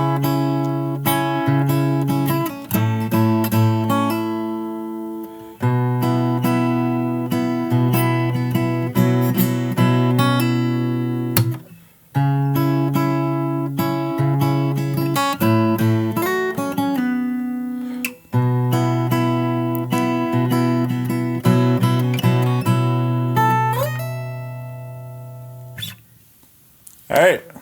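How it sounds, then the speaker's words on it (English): Fingerstyle acoustic guitar plays the verse of a song slowly, with sustained bass notes under plucked melody lines and chords in repeated phrases, close and clear, with brief pauses between sections and no talking. "Here's the entire thing played for you slowly."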